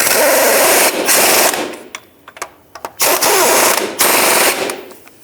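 Bursts of a power tool whir and rattle as 18mm bolts on a 2007-13 Chevy Avalanche differential mounting are tightened: four loud, close runs of about a second each, separated by quieter clicks and pauses.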